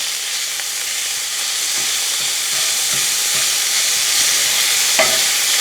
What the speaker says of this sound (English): So just cook the meat a little bit until it's not pink anymore